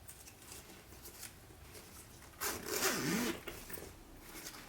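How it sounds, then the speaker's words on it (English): A zipper is drawn along a sewn crossbody bag. Soft rubbing and handling noises come first, then a brief, brighter zipping rasp near the middle. The whole sequence is quiet and close. "I'm going to put my zipper on."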